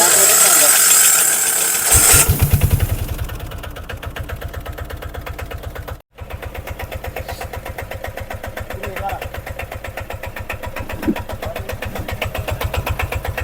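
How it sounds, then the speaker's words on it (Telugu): A Bajaj diesel auto rickshaw with a worn crankshaft bearing cranks and catches after a couple of seconds, then settles into a loud, steady chugging idle with a rapid knocking rhythm. "ఇంజిన్ స్టార్ట్ అయింది"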